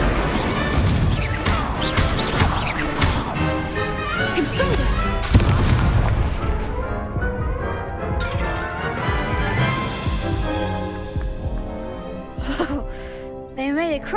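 Spell blasts crash and boom through a Hogwarts Legacy duel, the loud layered impacts and magical whooshes hitting in quick succession, then tapering into chiming tones toward the end while a voice calls out over them.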